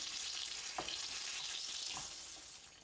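Tomatoes frying in a pan for amatriciana sauce give a steady, moderately loud broadband sizzle throughout, with a couple of brief clinks or stirring scrapes near the start and middle.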